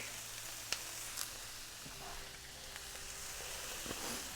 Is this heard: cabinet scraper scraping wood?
no